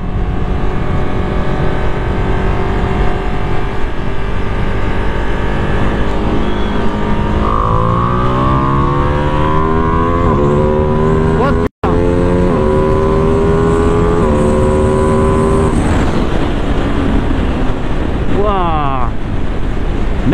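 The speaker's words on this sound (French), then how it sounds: "j'étais juste gaz en grand. J'ai passé un rapport, je crois, de 2 en 3 et l'avant s'est levé." Motorcycle at full throttle, engine revs climbing steadily, a gear change from second to third, then pulling hard again, all under heavy wind buffeting on the microphone.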